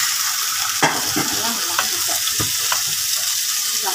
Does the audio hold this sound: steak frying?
yes